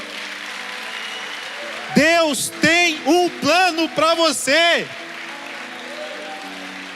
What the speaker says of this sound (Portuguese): Pode aplaudir a Jesus aí, meu irmão.